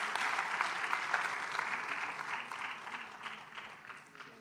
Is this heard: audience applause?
yes